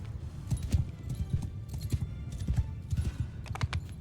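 Horses gallop in Mount & Blade II: Bannerlord as cavalry and horse archers charge, a rapid clip-clop of many hooves drumming steadily, dense and fairly close, with scattered higher clatter.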